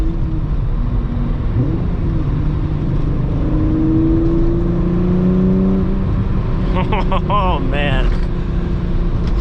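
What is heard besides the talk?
VW MK3 car driving, cruising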